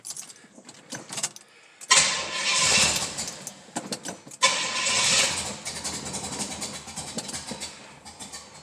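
A 1969 Pontiac LeMans with a newly swapped HEI ignition and retarded timing cranks briefly, fires and revs loudly, dips, then catches again and settles into a rough, close idle.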